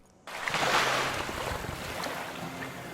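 A character emerging from the water after a train crash in a video game, a sudden rush of splashing water and surf that swells and then settles into a continuous wash with wind noise.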